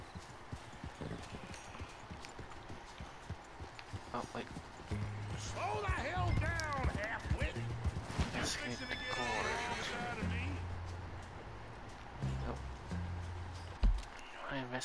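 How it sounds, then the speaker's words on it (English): Horse in Red Dead Redemption 2 whinnying loudly several times while hooves clip-clop in a steady rhythm, with game voices and ambient sounds mixed around it. "Oh, there's my horse"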